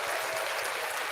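A short burst of hand clapping during a live Doctor Who news show, a few people applauding in a quick, fairly close flurry lasting about a second.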